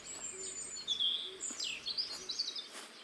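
A robin in Botany Manor sings quiet, high chirping phrases and quick trills over a faint ambient hum, soft and somewhat distant, with no speech.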